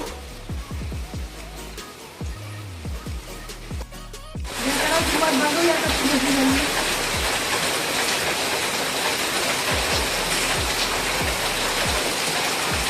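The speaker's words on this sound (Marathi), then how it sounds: "पाऊस पण पडतोय" Steady rain pours down, a dense continuous hiss that grows louder partway through, with a few low thumps earlier on.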